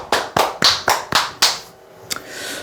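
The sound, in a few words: audience clapping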